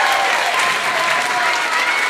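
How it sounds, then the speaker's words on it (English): Audience at a comedy show bursts into loud, dense applause that holds steady for two seconds, with no voices on top. "Give him a round of applause."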